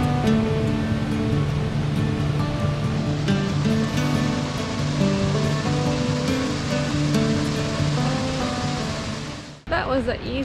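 A waterfall in Dupont State Recreational Forest roars as a loud, steady rush of water close by, with a musical background running underneath, before everything cuts off abruptly near the end.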